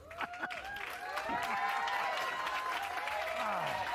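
A bowling crowd at a PBA King of the Lanes event cheers and applauds a bowler, with clapping swelling into a steady roar and excited voices rising and falling through it.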